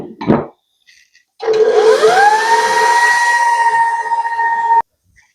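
An electric mixer whirs through gluten-free Swiss roll batter, starting up after a brief clatter, rising quickly in pitch to a loud steady whine that holds for about three seconds before cutting off abruptly.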